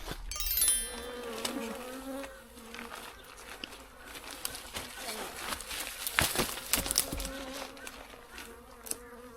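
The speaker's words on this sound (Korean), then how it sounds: "벌이 아직 다 안 들어온 것 같아요. 아직 지금 밖에 남아 있습니다." A swarm of honeybees buzzes loudly and continuously around a hive hanging from a tree, a dense droning hum with individual bees passing close by.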